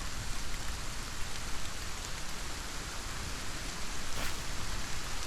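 Steady rain in the video game Solarpunk on a flying island, a continuous broadband hiss of falling drops at moderate level with no talk over it.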